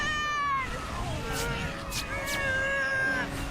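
Several cartoon cats meow in drawn-out, wavering cries, one after another, over a busy background, with a few sharp bursts in between.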